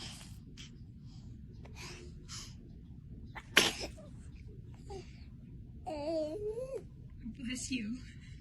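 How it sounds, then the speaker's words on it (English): A baby gives one sharp, close sneeze in the middle of soft babbling, whimpers and small whines, with adult voices talking around it. "Got the sneeze?"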